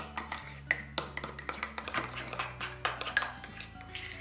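A utensil clinks and taps against plastic containers while coloured cream is mixed, a quick irregular run of small knocks and scrapes, fairly close and moderately quiet, with a low background tone underneath.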